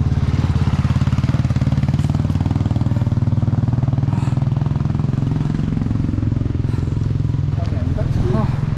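Royal Enfield motorcycles rumble steadily and loudly through a rough, difficult section of a Hetauda to Budhichaur ride, the engine note continuous with occasional clatter.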